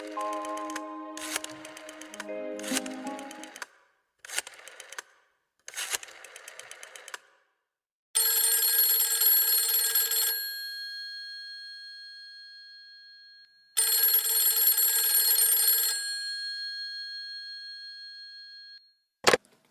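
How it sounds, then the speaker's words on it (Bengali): A telephone ring effect from a dramatized audiobook: bursts of bright electronic trilling tones, first in short choppy pulses, then two long sustained rings with a fading tail, clear and alone. "এখনই রূপাকে ফোন করো।"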